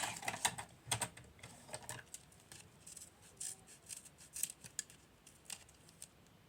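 A collectible pack from a new series being torn open, with soft crinkly rustling and sharp tearing ticks arriving in quiet, irregular bursts, close by and without talk.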